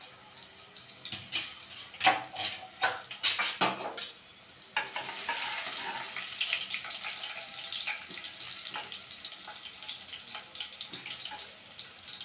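Garlic, mustard seeds and cumin sizzle in hot oil for a traditional Maharashtrian bhaji tempering, with a few stirring clatters first, then a steady loud frying hiss that carries on alone to the end.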